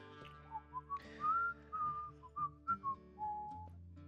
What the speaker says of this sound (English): I just do a friendly whistle while I sit and wait